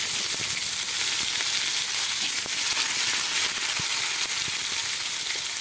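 Whole cumin and whole garam masala fry in hot oil in a karai, giving a steady, close sizzling hiss with small crackles and pops throughout and no talking.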